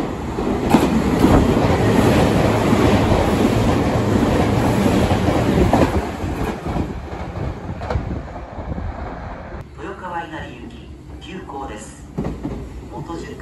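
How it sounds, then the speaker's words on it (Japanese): A non-stopping train rushes through a Japanese station platform, a loud, continuous rumble and rail roar that fades after about six seconds, with a platform announcement voice audible. "3番線の電車は通過電車です。"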